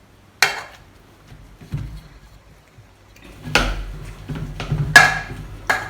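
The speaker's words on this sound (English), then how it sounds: "I'm just mashing using our spoon" Potatoes being mashed with a spoon produce a handful of sharp knocks and scrapes against the bowl, separated by quiet pauses, close by and with no talking.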